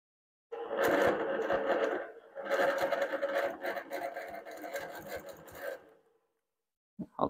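Longarm quilting machine stitching in the ditch, a fast buzzing needle stitch in two runs separated by a short pause, close and moderately loud, ending in silence.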